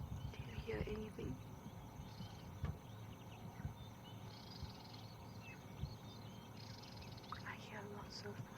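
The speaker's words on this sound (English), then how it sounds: "I hear lots of little birds far away" Many small birds chirp and twitter far off at sunrise in the African bush, faint scattered calls over a soft insect and cricket drone with low ambient rumble.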